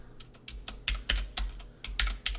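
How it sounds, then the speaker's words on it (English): A clicky computer keyboard is typed on nearby in short, uneven bursts of sharp keystrokes, heard alone with no talking. "Sorry for the clicky keyboard."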